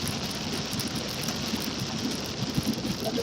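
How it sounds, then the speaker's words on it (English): Steady light rain patters continuously, a soft even hiss with scattered droplet taps close by, no voices. "It's raining, like not so hard."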